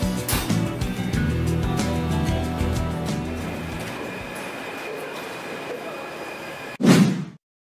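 The Montmartre funicular in Paris runs with a steady mechanical rail rumble and faint squeals, then the noise tapers off and ends in a short, close thump followed by silence.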